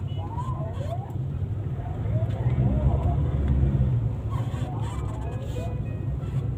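Car traffic at an intersection where the traffic lights are out, a steady low rumble of engines and passing vehicles heard from inside a moving car, swelling in the middle, with faint background voices.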